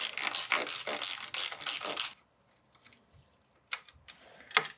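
A 5mm hex key works a brake bolt on a Niner RIP 9 bicycle frame, a close burst of rapid ratcheting clicks for about two seconds, then quiet with a few scattered metallic taps.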